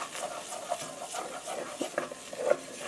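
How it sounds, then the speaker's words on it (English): A spoon stirs flour into a sauce in a pan for potatoes au gratin, producing a soft continuous scraping swish with light taps and a faint sizzle, close and fairly quiet. "Just keep mixing it until it's like a cakey kind of sauce."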